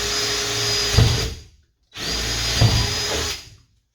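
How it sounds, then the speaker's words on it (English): A power drill bores a hole for a bi-fold door knob in two bursts, each running steadily for about a second and a half before stopping, close and loud with a brief pause between them. "So you've drilled your hole through."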